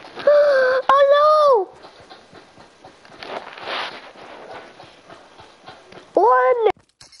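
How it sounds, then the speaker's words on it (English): A beast horse rampaging through a city clip-clops with steady hoof beats, framed by loud wailing, neigh-like cries at the start and end. "The beast horse is trying to destroy our city again."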